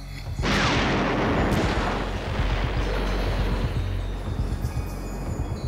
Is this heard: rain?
no